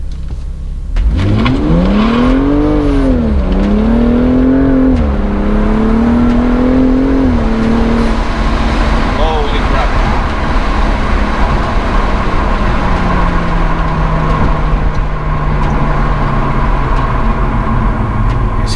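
A BMW fitted with a new intake, in Sport Plus mode, accelerates hard with loud rising and falling engine pulls through several gear changes, then settles into a steady, loud cruising drone, close and with no talk.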